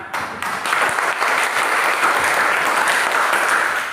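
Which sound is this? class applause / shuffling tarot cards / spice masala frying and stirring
class applause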